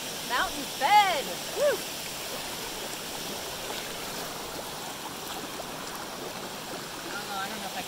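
A mountain-fed creek in the Mount Baker Wilderness flows with a constant broadband rush, while a few brief high-pitched chirping calls rise over it near the start.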